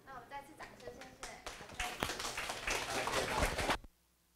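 An audience applauds at the close of a talk, a steady burst of clapping that builds for a few seconds and then stops abruptly, heard close with a voice speaking briefly at the start.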